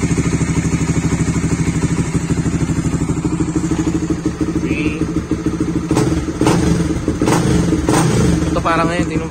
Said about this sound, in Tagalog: konting throttle ko lang pero yung RPM niya taas agad, diba?